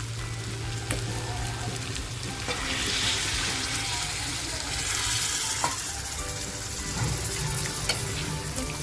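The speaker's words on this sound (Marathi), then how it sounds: "आता थोडंसं आहे ना त्याच्यात पाणी टाकणारे म्हणजे आपलं सूप टाकणारे आहे बघा" Water hits sautéed spice masala in a hot pan for black mutton curry, giving a continuous loud sizzle and bubbling hiss that swells midway and stays steady to the end.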